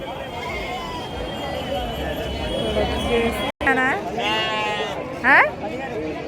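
Rams bleat at a livestock market, several loud wavering calls rising near the end over the steady murmur of people talking in the background.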